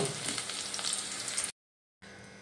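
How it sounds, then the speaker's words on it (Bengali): Potato pieces fry in hot oil while cooking a vegetarian broccoli dish, giving a steady, faint sizzle for about a second and a half. A brief silence follows, then a quieter hiss resumes. "আলুগুলো তো ভাজা হয়ে গেছে, এবার আমি আলুগুলো তুলে নেব"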